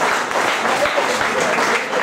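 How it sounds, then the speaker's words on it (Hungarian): A crowd at a village ball applauds donors, a short burst of even, moderately loud clapping that sustains without pause from start to finish. "Köszönöm szépen az ő nevükben a tapsot."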